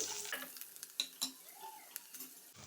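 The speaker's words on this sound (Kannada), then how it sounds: "ಇದನ್ನು ಹಾಕೋಣ. ಇವು ಕೂಡ ಸ್ವಲ್ಪ ಫ್ರೈ ಆಗಲಿ." Garlic cloves sizzle softly in a pan for chicken stew, with scattered clinks and scrapes of a stirring utensil against the pan, quiet and close.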